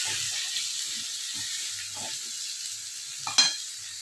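Mango pieces with turmeric and salt stirred in a pan for pickle, a steady soft sizzle with scattered low scrapes and one sharper scrape near the end, no talking.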